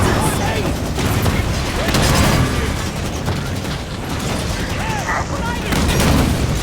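Dense video-game gunfire and explosions from a Scorpion tank in battle, rapid overlapping shots and booms running continuously at close range, with shouting voices mixed in.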